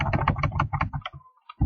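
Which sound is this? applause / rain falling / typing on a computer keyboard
typing on a computer keyboard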